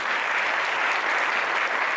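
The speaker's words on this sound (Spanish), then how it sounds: "Un aplauso, por favor." Dense, steady applause from a seminar audience welcoming a speaker, a close, even wash of many hands clapping with no voices over it.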